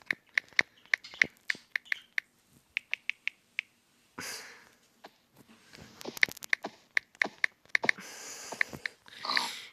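Computer keyboard typing in sharp, irregular clicks, sparse at first and then denser in quick bursts, close to the mic with no talk.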